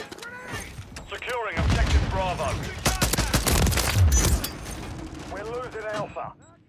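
Rapid automatic gunfire in Modern Warfare 3 Season 2 comes in dense, loud bursts with mechanical clatter, mixed with in-game radio voices and chirping effects before and after the shooting.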